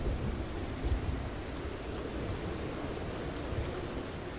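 Steady rain falling in the video game Project Zomboid near a pier and bench, a dense, even hiss with low rumbling underneath, continuous and moderately loud with no voices.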